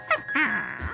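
Dr. Hundley Dachshund, a cartoon dachshund, lets out a quick, high yip followed by a short whining bark, close and clear in one brief burst.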